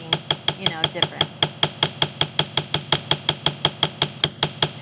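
A hammer strikes metal jewelry blanks in a steady, brisk rhythm of sharp, ringing taps, about four per second, with a faint voice briefly underneath.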